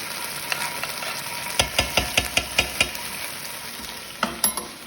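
Minced garlic fries in a pan under a steady sizzle, cut by a run of sharp, regular knocks from stirring mid-way and a few more near the end, close and clear with no talk.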